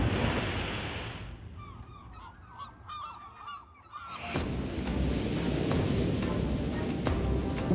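Storm waves crash and roar on the North Sea coast in high wind, a loud wash broken by a quieter stretch with honking geese before the surf and wind surge back.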